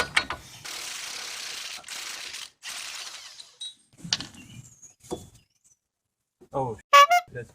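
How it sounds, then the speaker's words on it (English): Ratchet wrench loosening brake caliper bolts on a Ford Focus front hub, heard as several separate bursts of rapid clicking, including a loud, sharp run near the end, with quiet gaps in between. "remove the two bolts on the top and on the bottom to get the whole brake assembly off"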